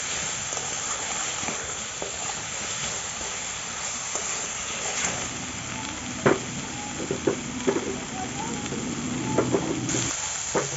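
Spices and potato pieces fry in a pan for a Dover sole fish curry, producing a continuous close sizzle and hiss with intermittent stirring scrapes and knocks, no talking.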